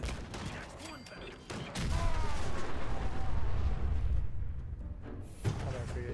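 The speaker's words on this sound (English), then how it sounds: "And catch him with the grenade." A grenade goes off in a video game, a heavy booming blast followed by a long rumbling roll of gunfire-like crackle, loud and close, with game voices around it.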